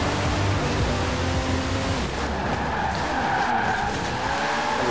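A car drifting on snow in Forza Horizon 4, with a loud, sustained engine roar and tire-skid hiss that stays constant throughout, alone without talk.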